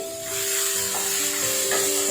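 Red and green chilies and beetroot fry in coconut oil, giving a steady close sizzle with occasional stirring scrapes and no voices.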